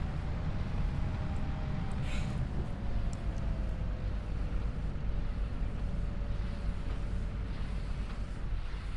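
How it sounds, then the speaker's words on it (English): A tractor engine runs in the game Farming Simulator 25 as a continuous low rumble with a faint droning tone, heavy and steady throughout, with no break in the sound. "I've only been sitting here for a few hours just listening to the tractor"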